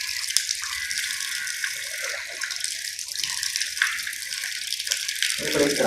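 A tap runs steadily into a sink during wudu ablutions while water is scooped to rinse the mouth, giving a constant close splashing hiss with small gurgles and spatters, a little louder near the end.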